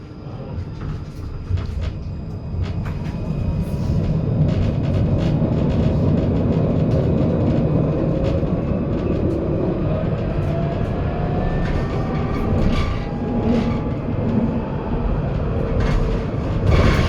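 Lyon tram line T5 running toward Bron: a continuous low rumble of wheels on rail with faint squeals and clunks rising over it, fairly loud and steady, with no talking.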